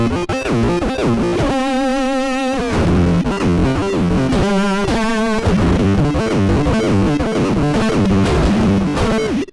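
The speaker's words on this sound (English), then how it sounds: "But it can add a different flavor of vibrato like this." A harp plays a busy run of notes through a Gamechanger Motor vibrato pedal, pulsing pitch wobbles on sustained notes, loud and close with no talking.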